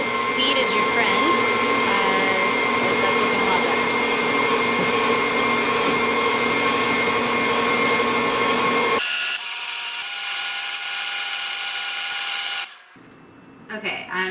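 Electric mixer beating blueberry banana bread batter, a loud steady motor whine that cuts out abruptly, leaving a quieter hum, then fades to near silence with brief clatter at the end.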